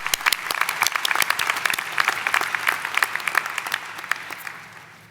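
Graduation ceremony crowd at a doctoral hooding, applauding in a lively burst of distinct claps that gradually thins and fades away.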